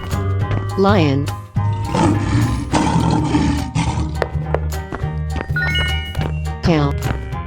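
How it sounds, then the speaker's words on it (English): A lion in a 3D animal video game lets out a loud, sustained roar, its growling rumble set over game music and cheerful jingles with a voice calling out in the background. "Lion."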